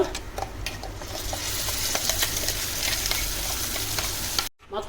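Dried red chilies, curry leaves and coriander fry in hot oil in a pan, a steady close crackling sizzle with small pops and stirring scrapes that cuts out abruptly near the end.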